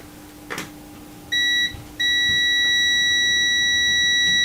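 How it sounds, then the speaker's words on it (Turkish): An electronic buzzer on a contactor circuit sounds a steady high tone, briefly at first, then cuts out and resumes continuously, over a low electrical hum. "hem de zaten buzzer'ımız ötmektedir."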